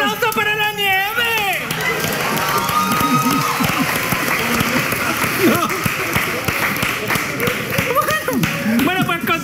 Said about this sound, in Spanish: ¡Un aplauso para la nieve!